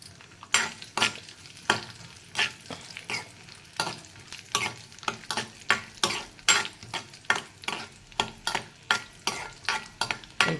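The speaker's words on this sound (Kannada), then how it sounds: "ಆಮೇಲೆ ಮತ್ತು ದ್ರಾಕ್ಷಿ ಹಾಕಿ ಫ್ರೈ ಮಾಡ್ಕೊಳ್ಳೋಣ." Raisins and cashews fry and get stirred in a pan for a sweet semolina dish, spoon scrapes knocking in a steady rhythm every half second or so over a soft sizzle, close and with no voices.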